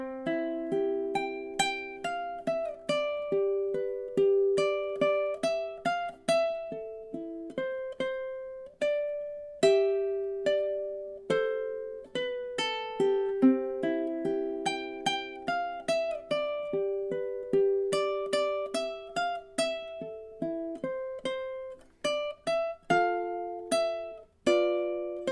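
A ukulele plays the closing phrase of a song with clear, evenly plucked notes. The final note is held and allowed to ring out, with no voices.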